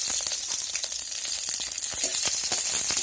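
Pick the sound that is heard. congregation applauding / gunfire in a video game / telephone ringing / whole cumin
whole cumin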